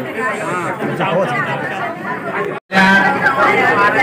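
Guests at a Mumbai wedding chatter loudly in a dense, steady crowd babble with overlapping voices. The din cuts out for a split second, then returns just as loud.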